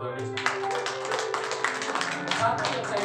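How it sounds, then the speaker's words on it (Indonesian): A church congregation at a Sunday service of the GJKI Agape congregation claps steadily and densely for about three seconds, with music or voices blending underneath. "Tepuk tangan buat Tuhan Yesus."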